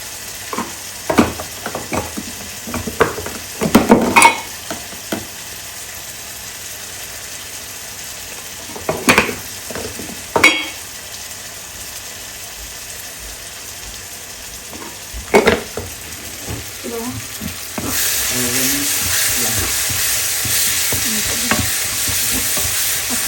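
Spices frying and being stirred in a pan, with crackling sizzle and repeated scraping strokes of a utensil in bursts, then a steady hissing fry toward the end; no voices.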